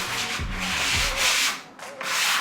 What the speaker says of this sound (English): So we're just doing a really light sand here